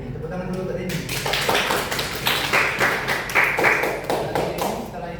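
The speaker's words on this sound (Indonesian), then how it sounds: "Tepuk tangan dulu untuk Denny." Classmates clap for a student named Denny during a teaching session, uneven close-up claps mixed with taps and thuds, with voices talking over much of it.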